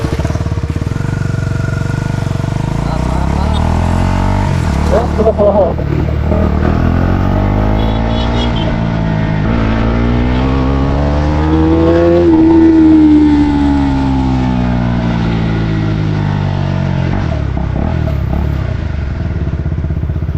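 A fully modified Husqvarna Svartpilen 250 motorcycle idles steadily and loudly nearby, its engine note rising and falling once in a brief rev partway through before settling back to a constant drone.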